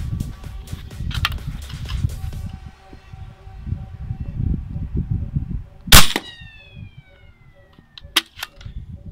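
A big bore 9mm air rifle fires at a water bottle: one sharp, loud crack midway, with a fainter report later, over low outdoor rumble and handling noise.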